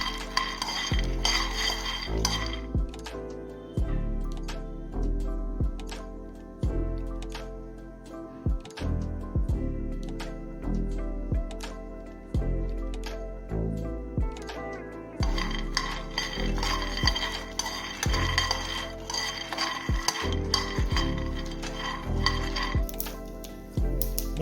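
Peanuts dry-roasting in a pan for South Indian peanut chutney, stirred with a spatula in steady rhythmic scrapes and rattles, close and continuous with light clinks against the pan.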